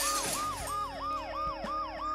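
Wailing ambulance siren from the video game Dead Synchronicity, a steady repeating up-and-down sweep, loud and close with no voices.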